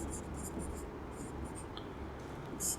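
Pen scratching across paper or a board in a physics lesson, with short bursts of faint, dry strokes spread over a few seconds under a low room hum.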